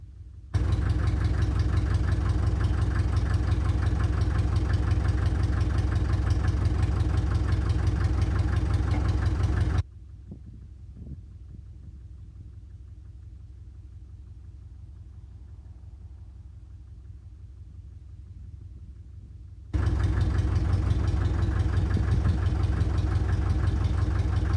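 A TD9 crawler tractor's diesel engine idling with a steady low rumble, which stops for about ten seconds, leaving faint background, and then resumes at the same even idle.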